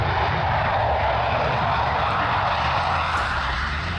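Indian Air Force jets performing aerobatics at the Dubai air show, a loud continuous roar of aircraft engines filling the air without pause, heard alone with no speech.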